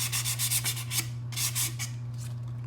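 Rhythmic sandpaper strokes rubbing along a small wooden paint stick, close and crisp, about a dozen quick back-and-forth passes with a short pause partway, over a steady low hum.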